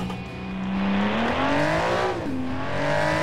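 A 1987 Light Sport Premium car in the BeamNG driving game accelerates hard from a standing start, its engine note climbing steadily through the revs and then dipping briefly at a gear change before pulling on, loud and close.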